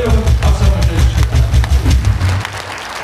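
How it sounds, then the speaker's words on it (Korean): Loud, close crowd clapping at an outdoor rally comes in dense, slightly rhythmic bursts for a few seconds before fading out. "크게 여러분 박수 한번 주십시오."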